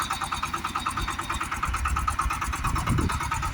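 A steady, rumbling Shifeng 244 tractor engine with a rhythmic pulsing drone, fairly close, running continuously without voices.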